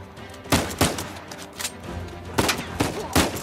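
Rapid gunfire in Uncharted 4: a string of close, loud shots in irregular bursts, some paired and some single, over a dull background rumble.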